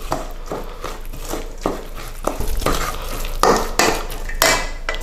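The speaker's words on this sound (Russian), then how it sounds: "Все, хорошенько это помешаем." A spoon stirs and scrapes through muhammara ingredients with added salt in a bowl, giving close, loud, irregular clinks and wet scraping strokes.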